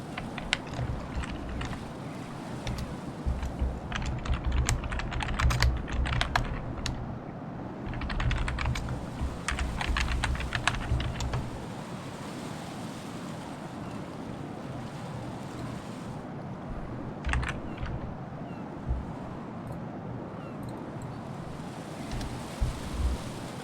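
Clicky typing on a computer keyboard, close and fairly loud, with bursts of rapid keystrokes over a steady low background rumble and no talking.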